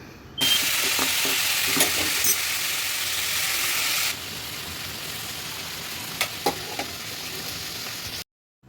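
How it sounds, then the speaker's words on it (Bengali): Bitter gourd and potatoes stir-fry in a pan with a loud, steady sizzle, broken by scattered scraping clicks of a spatula; the sizzle drops quieter about halfway through and then continues until it cuts off abruptly. "আমার আজকে লাঞ্চের মেনু ছিল আলু দিয়ে তিতা করলা ভাজি, যেটা আমি করছিলাম।"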